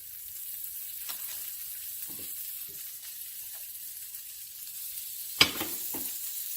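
Butter and olive oil sizzle steadily in a pan while scallops are sautéed, a soft continuous hiss with a few faint clinks and one sharp knock near the end.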